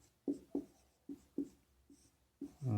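Pen or chalk writing on a board or paper during a maths lesson: about seven short, scratchy strokes in an uneven rhythm, close and fairly quiet, with no talking.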